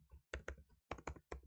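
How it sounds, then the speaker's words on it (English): Computer keyboard keys tapped in a few quick bursts of clicks separated by short pauses, close and fairly quiet, with no talking. "I'm typing the sine of 165"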